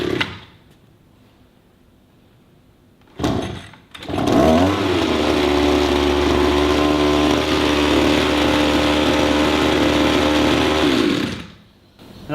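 A brand-new two-stroke pole tool engine coughs briefly, falls quiet, then catches and runs at a loud, steady buzzing idle for about seven seconds before cutting off. No one talks.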